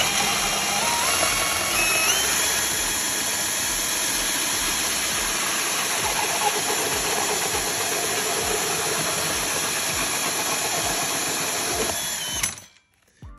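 Rotary tool bit cutting a hole in a ceiling for a modern recessed light, a loud steady high-pitched whine with gritty grinding that runs continuously for about twelve seconds before stopping abruptly.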